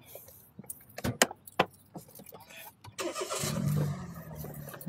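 A 2012 Toyota Vitz with smart key: keys jangle and a door clicks in a few sharp hits, then the starter whirs and the engine catches and settles into a steady idle, close and clear, with a voice speaking briefly.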